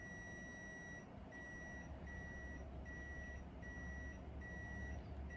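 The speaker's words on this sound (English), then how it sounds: "It does have like it beeps every time you press the button." Elechomes humidifier giving a series of short, regularly spaced electronic beeps, about one every three-quarters of a second, clear and close over a steady low hum, with no talking.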